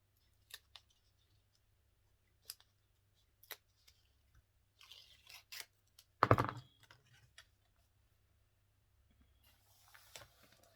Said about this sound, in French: Qu'il fallait faire également l'encoche sur le papier